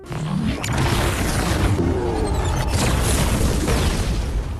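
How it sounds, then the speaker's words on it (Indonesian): A building explodes from a super-weapon attack in the Sonic the Hedgehog film: a loud, sustained rumbling blast with crackling debris and whooshing bursts that fills the whole stretch, with no speech. "Kekuatan senjata itu membuat seisi bangunan meledak"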